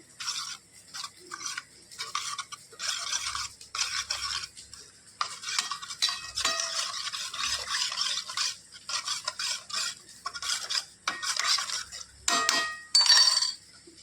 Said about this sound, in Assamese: আদা নহৰু, জিৰা, ধনিয়া, হালধি, এই গোটেইখিনি পানীৰে অকণমান মিক্স কৰি ল'ম।